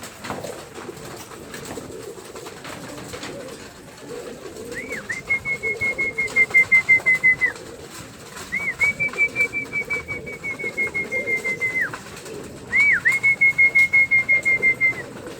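Pigeons being flown for exercise make rhythmic, pulsing flutters in three stretches. A steady high whistling tone rides over them against a constant low background din.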